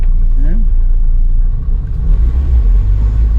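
A SEAT 1200 Sport engine accelerates with a heavy, close, steady rumble. Someone talks over it throughout.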